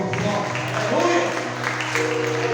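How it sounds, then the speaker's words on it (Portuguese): A church congregation claps together in a steady, moderately loud burst of applause, with a voice and background music or hum continuing underneath. "vamos aplaudir o Senhor."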